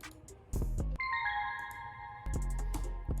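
A beat runs through an Arturia Reverb Plate 140 on the EMT preset. Bell-like accent tones ring out over punchy drum hits, and the plate reverb leaves a faint, fairly quiet tail.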